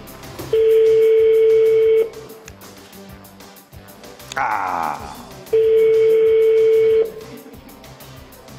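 Two long telephone ringing tones with a pause between, loud and close, with a brief burst of other noise in the gap.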